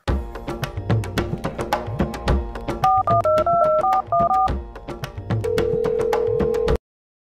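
A quick run of electronic keypad tones over a rhythmic musical backing, followed by a steady sustained phone tone that holds for a couple of seconds.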